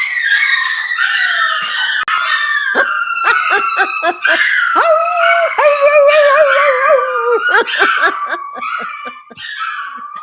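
Several dogs howl loudly and close by as an ambulance passes, long wavering howls overlapping and rising and falling for the whole stretch.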